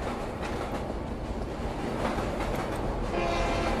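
A train rumbles past in a horror video game, with a steady low roar and faint rhythmic clatter filling the scene at moderate volume, no voices over it.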